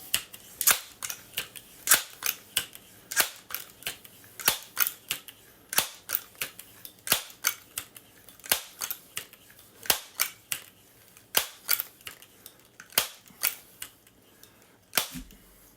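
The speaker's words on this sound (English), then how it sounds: "So we'll go ahead and measure pumping noise right now" A Crosman/Benjamin multi-pump air gun pumped ten times gives a steady run of sharp, close mechanical clacks, often in quick pairs, with no talking.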